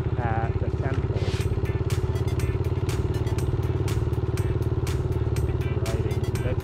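A motorcycle ridden slowly at night near a temple on a holiday: a steady, rhythmic engine thrum pulses continuously throughout, close and loud, with brief knocks and a voice heard over it.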